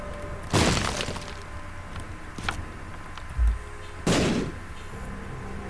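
Two heavy blasts from bombs in The Binding of Isaac boom about three and a half seconds apart, each a loud burst with a crumbling tail, with lighter game clicks and thuds scattered between.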